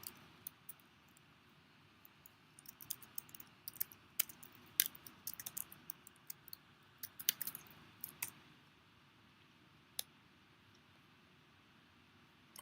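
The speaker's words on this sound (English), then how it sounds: "I'm typing too fast." Quick, irregular clicks of typing on a computer keyboard, light and close, in fast bursts with brief pauses over a quiet background.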